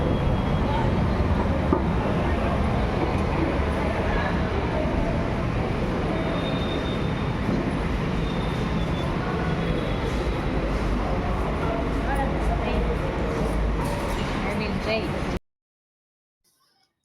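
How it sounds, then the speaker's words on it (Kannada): A metro train rumbles along toward National College metro station at a steady, loud roar with rail noise and faint squeals, then everything cuts to silence near the end. "ಈಗ ನ್ಯಾಷನಲ್ ಕಾಲೇಜ್ ಮೆಟ್ರೋ ಸ್ಟೇಷನಲ್ಲಿ ಹೋಗ್ತಾ ಇದ್ದೀವಿ"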